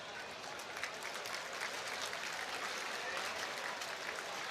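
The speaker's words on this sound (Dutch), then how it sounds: "Het applaus van het korps" The corps applauds at the PC Franeker 2026 final, a steady, fairly distant patter of many hands clapping that is soft but continuous from start to finish.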